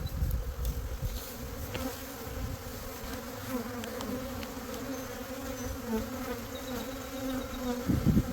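Honey bees swarming over frames in a nuc box, a dense steady buzz filling the whole stretch at close range with slight swells in intensity.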